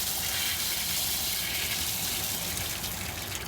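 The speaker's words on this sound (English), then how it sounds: "And then you drain down the well down here." Water drains down from a home well system during maintenance, a steady, loud rushing gush with a broad hiss that continues unbroken with no talking.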